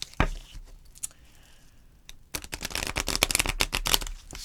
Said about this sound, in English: I'm going to shuffle it in portions again